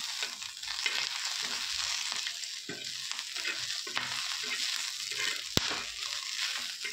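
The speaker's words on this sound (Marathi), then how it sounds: "आता आपल्या मिरच्यांना जवळजवळ दाट कडक आलेले आहे. बघू शकता. अजून थोडा वेळ आपण भाजून घेऊ." Green chillies roasting in a hot pan for a raw mango thecha, a continuous close sizzle with soft stirring scrapes and one sharp tap, no talking.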